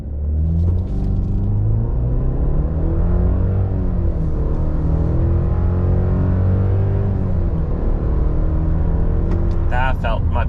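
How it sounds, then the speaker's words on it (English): A 2025 Chevy Silverado with the TurboMax turbocharged 2.7-liter four-cylinder makes a deep, loud rumble as it launches hard from a brake rev, the engine note climbing steadily through the gears, with faint clicks at the start and end. "Time for the brake rev in the TurboMax."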